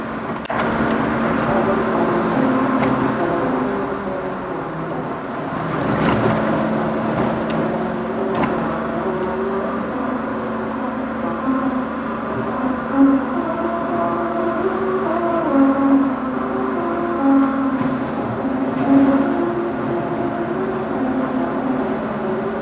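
A car drives over a musical road in Okinawa, its engine and tyre drone steady throughout with a sustained tonal hum from the grooved surface, close and fairly loud, with no talking.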